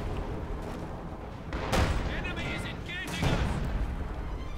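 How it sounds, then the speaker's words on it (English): Field gun artillery in the WWII strategy game Company of Heroes 2 lobs shells across a battlefield, with two heavy booming shots standing out over steady rumbling combat noise. "Field gun bombarding now, high pressure shells being lobbed across the sky."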